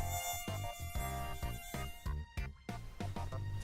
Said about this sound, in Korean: 암컷 모기 1개월. 피를 빨아요.